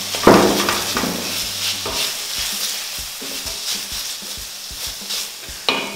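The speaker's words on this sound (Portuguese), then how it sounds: "Vou deixar o tomate dar uma fritadinha, soltar um pouquinho de água" Tomatoes sizzle and fry in a pan for an empanada filling, a steady close crackle with a few stirring scrapes and a sharp utensil knock near the end, no talking.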